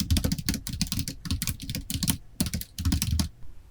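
Typing on a computer keyboard while entering a title in an Excel practice exam, heard as close, rapid clusters of key clicks in bursts with short pauses, and no talking.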